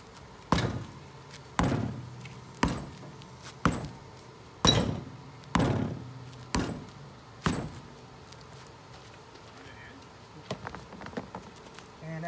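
Heavy duty axe smacking a wheel hub on an 80 Series vehicle during wheel bearing adjustment, nine loud metallic strikes about one second apart, followed by quieter scattered clinks.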